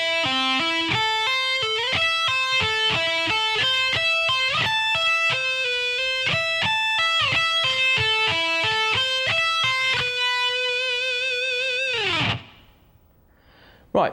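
Electric guitar plays an arpeggio lick slowly, steady picked notes in a clear repeating rising and falling pattern, loud and alone, ringing out before a sudden stop near the end.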